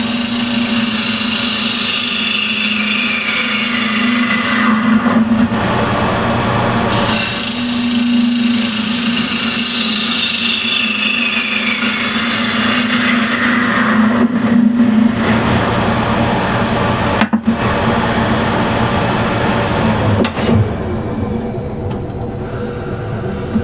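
Woodturning lathe spinning while a tool cuts down the flange of a wooden suction-fit box, a steady motor hum with scraping cut noise rising and easing in passes, briefly interrupted by short pauses.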